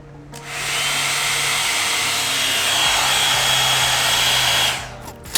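A Bondi Boost hot air blowout brush whirs on with a loud, steady blowing roar, runs for about four seconds, then shuts off.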